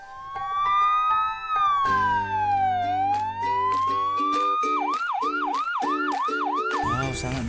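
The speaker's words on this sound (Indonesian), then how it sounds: "Teman-teman pasti sering kan lihat mobil ambulan." A toy ambulance plays a loud electronic siren close up, starting with sliding wails and rapid beeping tones and then switching to quick repeating whoops before it cuts off.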